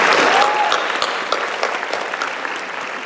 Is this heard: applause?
yes